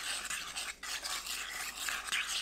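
A dressing of minced garlic, soy sauce, olive oil, apple cider vinegar, salt and honey is whisked in a bowl for a chive and squid salad, giving a soft, continuous close-up swishing with small clinks and no voices.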